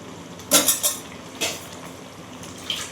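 Fried fritters are mixed into a curry of pointed gourd, potato and fish roe, with a spoon scraping and clinking against the cooking pan in a few quick strokes, then a pause and a lighter knock.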